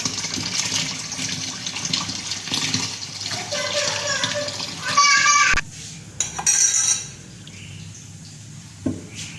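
Homemade butter, churned from cream skimmed at home for desi ghee, sloshed and washed in cold water in a pot, with intermittent watery splashing and clinks while people and children talk nearby.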